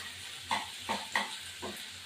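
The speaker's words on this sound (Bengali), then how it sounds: "এবার এটা নাড়া দিচ্ছি।" Ridge gourd and shrimp frying in a pan, stirred with a spatula: a soft background sizzle broken by four distinct scraping strokes against the pan at an even pace.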